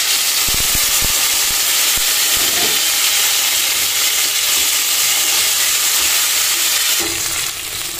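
Curry leaves and tomato hit a hot pan, bursting into loud continuous sizzling and hissing frying noise with a few brief clinks at the start, steady throughout and close by.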